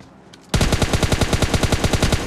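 Rapid automatic gunfire in the mobile battle-royale shooter PUBG Mobile: a loud burst of about twenty evenly spaced shots after a brief quiet lead-in.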